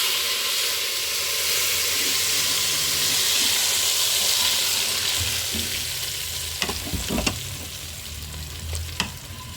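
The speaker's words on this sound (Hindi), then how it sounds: "मैं हल्का सा जीरा और साथ ही ये 2-4 तुरक मिर्ची डाल के इनको फ्राई कर लेते हैं" Cumin seeds and a few dried red chillies fry in hot oil for a kadhi tadka, giving a steady loud sizzle with a few sharp pops and clinks toward the end.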